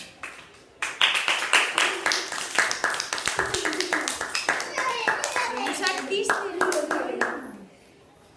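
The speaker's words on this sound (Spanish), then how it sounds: "Un fuerte aplaudimiento." An audience applauds sixth-grade primary school pupils after a theatre performance: near, brisk clapping that falls into a rhythmic beat and then stops, with children's and adults' voices talking over it.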